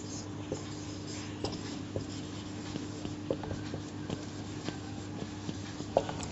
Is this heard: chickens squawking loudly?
no